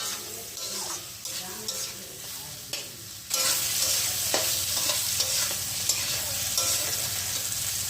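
Whole okra fry in oil in a pan with salt and turmeric, a faint crackle that jumps midway into a louder, dense, steady sizzle with occasional stirring scrapes.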